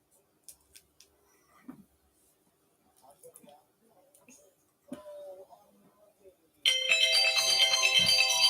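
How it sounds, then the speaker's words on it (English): A telephone rings steadily and loudly for the last couple of seconds while the caller waits for someone to answer, after quiet shuffling and small handling noises. "I hope someone answers the phone."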